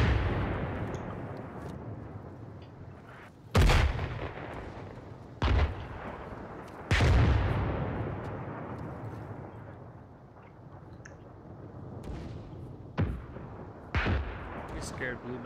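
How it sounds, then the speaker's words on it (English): Mortar rounds in the military video game ArmA 3 land in a series of heavy booming blasts, about five sharp impacts spread unevenly over a constant low rumbling battlefield background. "It's just mortar fire."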